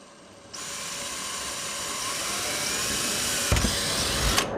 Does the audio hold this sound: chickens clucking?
no